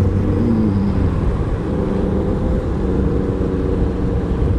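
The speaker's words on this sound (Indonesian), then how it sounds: "Ini mobil sayur apa bukan tuh, kok kebut-kebutan." A vegetable truck speeds along a night road on the outer ring road of Karawang, a loud continuous low engine and tyre roar passing close by without letup.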